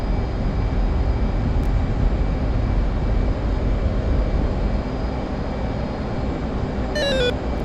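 A military jet takes off in the DCS flight simulator game, its engine holding a loud, steady roar throughout, with a short electronic tone near the end and no talk over it.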